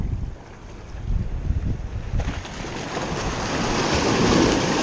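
Ocean waves wash against a jetty in a continuous rushing surge that swells louder toward the end, mixed with gusty wind buffeting the microphone, no speech.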